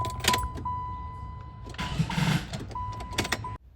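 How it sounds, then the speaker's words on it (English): A Jeep with a dead battery and a jumper pack attached cranks its engine, the starter whirring in a burst mid-way between clicks and electronic tones, close and fairly loud with some quiet talk. "So I have to hook up the starter in order to start the car."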